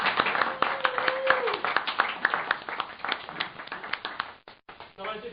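Audience applause for a young man at a live French comedy show, a dense patter of close hand claps running for several seconds under a brief voice, then cutting off abruptly with a few scattered claps after.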